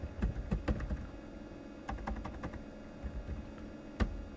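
Quiet clatter of typing on a computer keyboard, irregular keystrokes in short clusters with pauses between, close and faint, no talking.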